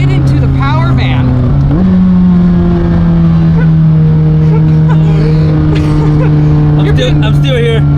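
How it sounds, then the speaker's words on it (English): A supercar's engine drones loudly from inside the cabin, the pitch stepping up through a gear change as it pulls hard, with excited voices talking and shouting over it. "Have you ever been in a car that accelerates that fast before?"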